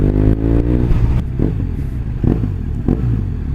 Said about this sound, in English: Just rev the tits off it all day.